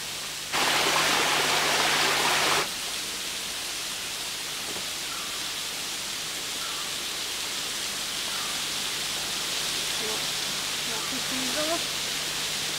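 A small waterfall trickles over huge rock blocks in a Sri Lankan rainforest, a steady soft broadband rush of water throughout, with a louder noisy burst near the start and faint bird-like chirps further back.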